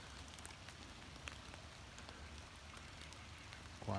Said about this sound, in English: It's mid-40s and drizzly rain.